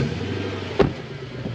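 A Lexus LS430 with a pops-and-bangs tune pulling away, low steady engine rumble with a single sharp pop near the middle of the short clip.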